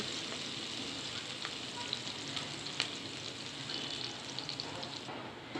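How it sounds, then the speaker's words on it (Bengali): Onions frying in cooking oil in a pan for a taro-leaf (kochu shak) dish, stirred now and then: a steady, dense sizzle with faint scraping ticks throughout, close and moderately quiet. "পেঁয়াজটা নেড়ে কিছুক্ষণ বাইটা নিতেছি"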